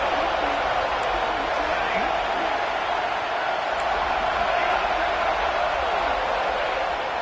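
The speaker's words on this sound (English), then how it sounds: "This crowd knows they have to bring it in big moments" A large football stadium crowd at an FSU game gives off a continuous, dense roar that stays loud and steady throughout, with a commentator talking over it.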